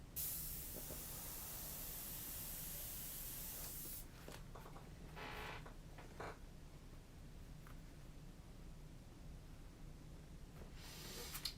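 Spray paint hisses out of an aerosol can in a long, steady burst at close range, eases off, and then comes back in a few shorter spurts.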